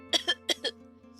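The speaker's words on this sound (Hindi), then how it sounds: "और फिर मॉन्स्टर को जोर से खांसी आई" Four quick, loud coughs in a rapid burst, close and dry, used as a monster's coughing sound effect in a Japanese folk tale, followed by a faint fading breath.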